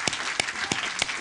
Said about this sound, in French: Bravo, franchement, on peut les applaudir.